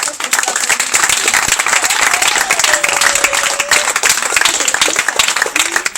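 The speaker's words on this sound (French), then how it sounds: "Applaudissons encore." An audience at a women's month event applauds with dense, steady clapping that holds for several seconds, and faint voices and a brief vocal cry come through within it.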